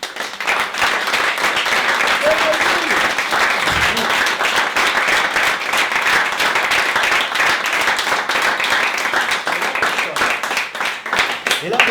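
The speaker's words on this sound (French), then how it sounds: "on laisse rentrer les applaudissements. Et vous pouvez applaudir, et pendant peut-être 1 minute" Sustained audience applause as a crowd is invited to clap for about a minute, dense and loud throughout, an unbroken roar of many hands with voices blended in.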